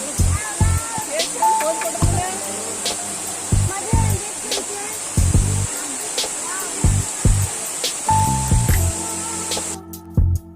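A tall waterfall, falling from about three storeys, roars as a steady hiss of spray throughout, with someone talking over it and sharp thuds and bumps from handling nearby.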